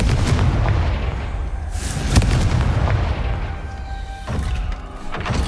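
Confringo fire spell blasts in Hogwarts Legacy, heard as dense booming, crackling bursts over a constant low rumble, with a sharper hit about midway and the roar dipping then swelling again near the end.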